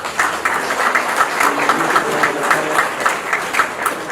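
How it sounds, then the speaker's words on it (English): An audience at a Belize Coast Guard public lecture applauds, steady dense clapping from many people throughout, fairly loud and close with no talking over it. "Please give yourself a round of applause."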